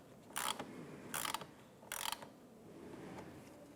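A ratchet snugs a nut down onto a plastic stud while a side marker light is fitted on a 1997-2006 Jeep Wrangler, giving three short, close bursts of clicking with quiet pauses between them.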